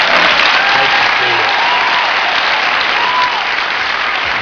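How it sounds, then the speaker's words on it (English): Studio audience applause on a late-night ABC comedy talk show pilot, a dense, steady wash of clapping that stays loud and even throughout, alone with no one talking over it. "Much more applause than you deserve"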